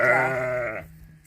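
Close up, a Cotswold-cross sheep lets out one loud, wavering bleat, under a second long, which then cuts off into quiet.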